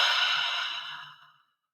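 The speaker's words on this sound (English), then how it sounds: "breathing out." A single slow, breathy exhale during guided breathing, airy and close, fading gradually into silence.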